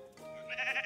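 Sheep bleating in the survival crafting game Miniland Adventure, a short nasal in-game bleat that swells after a faint start and pulses a few times, fairly quiet with no talk.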